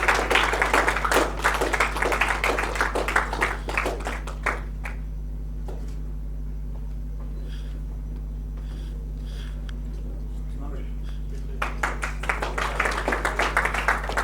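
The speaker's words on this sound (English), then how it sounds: "Big round of applause for Rizwan Khan." Audience applause at a social impact event in Goa, a burst of clapping filling a hall for several seconds, then a quiet lull with a steady low hum before clapping starts again near the end.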